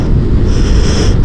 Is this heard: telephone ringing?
no